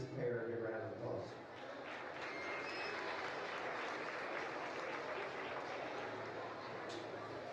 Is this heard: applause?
yes